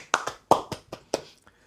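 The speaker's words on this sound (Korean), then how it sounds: "박수 다시" Seven sharp hand claps in an irregular, slightly uneven rhythm, close and fairly loud, with no talking over them.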